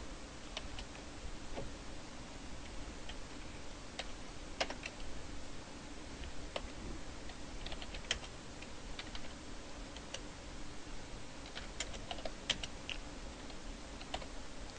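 Computer keyboard typing rattles steadily while code is entered, rapid close keystrokes running continuously over a constant low background hum.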